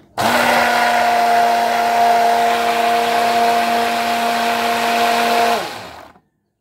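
A blender whirs steadily while mixing a sharbat drink for iftar, a loud, continuous motor hum with a constant pitch that runs for about five seconds before spinning down and stopping.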